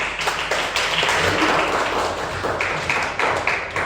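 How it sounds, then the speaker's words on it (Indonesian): Applause from a classroom of students at the close of an informatics lesson, a short burst of dense clapping that holds steady for a few seconds. "Tepuk tangan."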